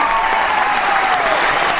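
Canned applause effect fills a studio as a dense, loud, steady wash of clapping from start to finish, with no pauses or build.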